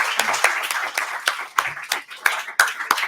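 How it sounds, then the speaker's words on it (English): An audience applauds panelists at a business panel event, with a few seconds of brisk, steady clapping from a crowd close by and a voice faintly audible beneath it. "now you can clap for our fantastic panelists"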